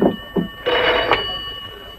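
An old-style telephone bell rings insistently in a French drama scene, a bright metallic trill sounding close and clear over a faint background hum.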